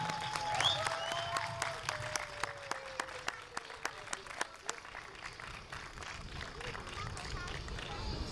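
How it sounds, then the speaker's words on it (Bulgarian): At a Bulgarian closing campaign rally for a mayoral candidate in Bozhurishte, a crowd claps in crisp, distinct applause over murmuring voices, fading after a few seconds into background hubbub. "Аплодисменти!"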